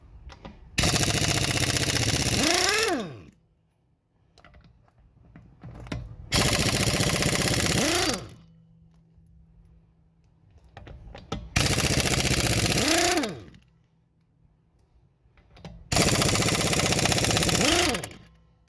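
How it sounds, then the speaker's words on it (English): Pneumatic impact wrench used during a home tire rotation, four loud close bursts of about two seconds each with rising whine, separated by quieter pauses with low hum. "Since we're using an impact, go ahead."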